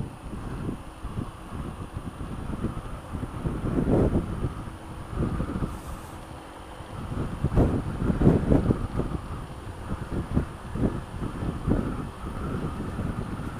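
Gusty wind buffets a microphone while riding a motorcycle in the morning, producing low rumbling bursts that swell and fade irregularly, strongest around the middle, with no one speaking.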